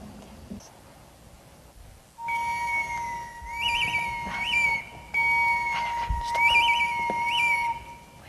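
An ancient Maya clay whistle-flute sounds a sustained, piercing tone with warbling trills, played in two long phrases after a quiet opening.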